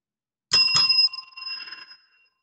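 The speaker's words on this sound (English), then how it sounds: "Well, that was the double bell." Two quick strikes of a bright bell ring out at a venue's front desk to mark the end of a shift, loud and close, their tone lingering and fading slowly.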